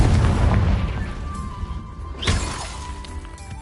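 A Confringo spell explodes in Hogwarts Legacy with a loud booming, shattering blast that decays, followed by a second sharp burst a moment later.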